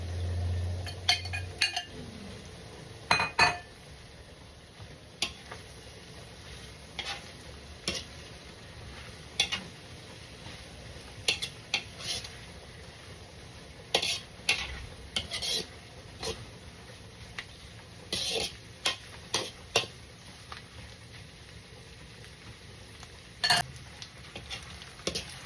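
Chicken is stir-fried in a pan for pansit with bell pepper and celery: a spatula clanks and scrapes against the pan in irregular bursts over a faint, steady sizzle, close by and without talk.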